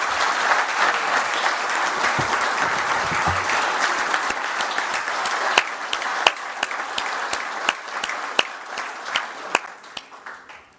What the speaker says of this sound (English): maybe join me again in an applause to all of my fellow finalists